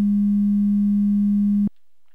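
A steady 200 Hz test tone hums at a constant pitch and level for just under two seconds, then stops abruptly, leaving near silence.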